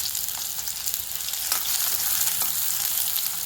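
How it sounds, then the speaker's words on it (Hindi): Onions frying in hot oil in a pan for a horse gram usal, a steady close sizzle with a few crackles and light stirring, no talk. "अच्छी तरह से हम प्याज को तल लेंगे"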